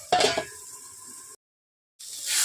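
A metal lid goes onto a cooking pot in a home kitchen, giving a brief clinking clatter near the start, then a short sizzle, a moment of silence and a returning hiss.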